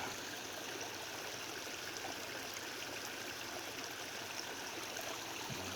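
Rainwater rushes steadily through a farm pond spillway after heavy rain, a constant broadband flowing hiss with no breaks and no voices.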